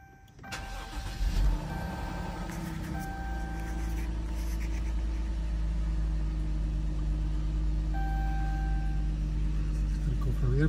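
A 2012 Dodge Durango 3.6 fitted with a K&N air filter cranks and catches, then settles into a steady, close idle, with a brief whirring start and someone speaking over it.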